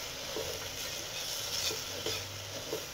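Moong dal is sautéed and stirred in a pan for Kerala-style payasam, giving a soft, steady sizzle with light scraping strokes at a few points, quiet and close, with no talking.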